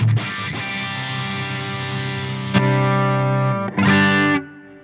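Loud, heavily distorted electric guitar chords ring out through the Nembrini BG-EXTASY high-gain amp plugin, sustaining, then a sharp restrike and a final burst before cutting off.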